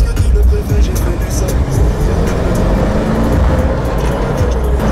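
A Mercedes G-Wagon driving along a street in Medellín, with a steady, loud engine and road rumble that continues throughout.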